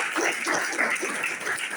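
A seminar audience bursts into dense, continuous applause, a short loud wash of many hands clapping together.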